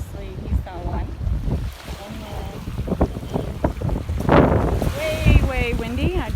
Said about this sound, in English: And then way windy.